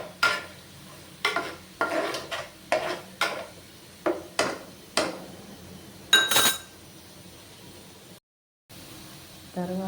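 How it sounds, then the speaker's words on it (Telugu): Ingredients for upma get stirred in a pan until browned: a run of sharp, evenly spaced scrapes and clinks of a spoon against the pan, close and clear, with a short silent gap near the end. "తర్వాత వీటిని బాగా తిప్పుకోవాలి. బ్రౌన్ కలర్ వచ్చేదాకా తిప్పుకోవాలి."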